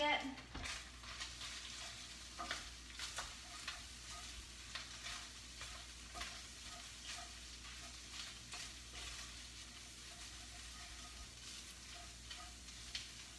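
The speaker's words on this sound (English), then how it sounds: "I'm going to go ahead and put my seasoning into my meat. Stir it around a little bit." Seasoned ground beef with chipotle in adobo sizzling in a frying pan while a spoon stirs and scrapes it, a steady sizzle broken by sharp clinks and scrapes, close and soft.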